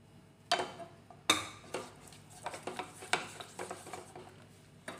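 A spoon stirring cheese and white pepper into white sauce in a pan, with a run of irregular clinks and scrapes against the metal, fairly close and quiet.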